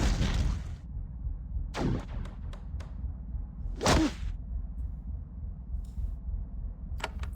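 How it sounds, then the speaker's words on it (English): Inferno turrets firing in the video game Avadon 2, a few sharp whooshing blasts spaced seconds apart over a steady low rumble of battle noise, with no voices. "at least the Inferno turrets are doing quite a bit of damage here"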